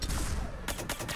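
Bursts of gunfire ring out in the Mass Effect 3 video game, first as a dense roar and then as several rapid, loud shots close together.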